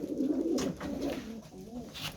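Pigeons coo steadily in a low, murmuring stream inside an evening coop holding mixed birds, with a roomy, faint background.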